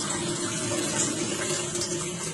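Tap water runs steadily through a water ionizer machine set for a hydrogen demonstration, a close, even rushing flow with no talking.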